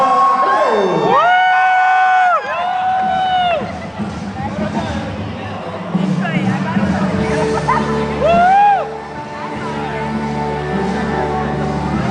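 Audience at a graduation ball cheering and whooping for an honoree as she enters, a loud sustained crowd roar with shouts, while an announcer's amplified voice talks over it.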